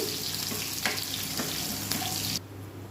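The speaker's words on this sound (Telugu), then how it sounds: "కాగిన ఆయిల్లో కరివేపాకు వేసేసి కరివేపాకు చిటపటాక" Curry leaves and chopped onions fry in hot oil, giving a steady loud sizzle and crackle with a few sharper spits, broken off abruptly near the end.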